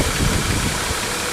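A Nissan Patrol Y61 with a TD42 diesel engine, down on power and running on an engine flush, idles roughly with a dense, continuous clatter, close and loud for a brief moment.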